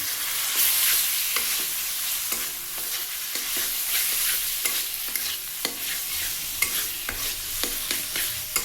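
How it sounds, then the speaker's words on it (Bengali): Boiled taro leaves being stirred and fried in a pan, a continuous soft sizzle with repeated scraping and knocking of the spatula against the pan, close and steady with no talk. "এবারে কচু শাকটা সেদ্ধ করা শাকটা দিয়ে দেবেন"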